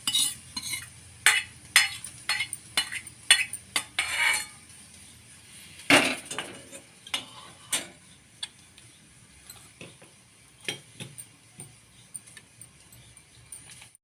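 Hot tempering is spooned over curd rice for a fasting-style dahi bhat, giving a run of sharp metallic clinks and taps of a spoon against a pan with a faint sizzle, close and intermittent, without talk.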